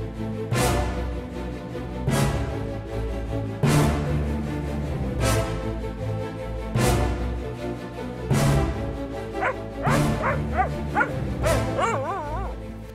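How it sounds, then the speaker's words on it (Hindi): Several dogs barking in a Hindi drama scene, loud repeated bow-wow barks spaced about every second or two, then rising into whimpering yips and howl-like whines near the end, with no talk over them. "ये कुत्ते क्यों भौंक रहे"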